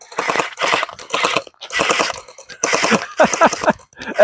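A gel blaster firing gel bullets in rapid bursts, several loud close rattling volleys of quick snapping shots separated by short pauses.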